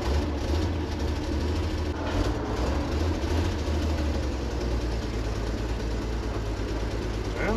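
A vehicle engine idles steadily after refuelling with gas in the desert, running with a continuous low rumble close by and no talking.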